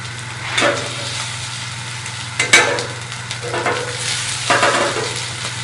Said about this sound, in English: So now we're going to saute this up.